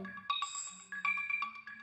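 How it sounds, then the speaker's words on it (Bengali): A mobile phone ringtone plays a short melodic tune of bright repeated notes, faint and without other sounds. "এই কি এই ফোন বাজতেছে, ধরো না কেন?"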